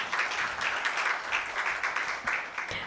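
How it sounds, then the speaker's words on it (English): Applause from a conference audience after a leadership talk, a moderately distant, steady wash of many hands clapping with a gently pulsing rhythm throughout. "Such energy on the stage definitely deserves a louder round of applause"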